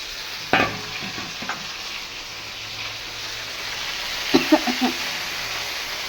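Leafy greens sizzling in a frying pan under a constant soft hiss, with a few clattering stirs and utensil knocks near the start and again toward the end.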